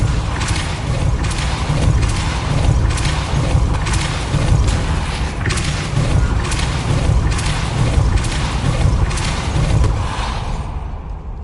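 Depulso spell cast in Hogwarts Legacy, followed by loud rumbling mechanical booms and repeated clanking thuds in a steady rhythm that fade out at the end.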